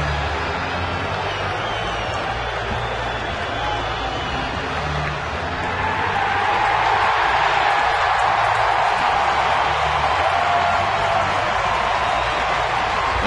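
Baseball stadium crowd at a night game reacting to the umpires' call, a broad sustained roar that swells louder halfway through and holds, with no clear talk over it.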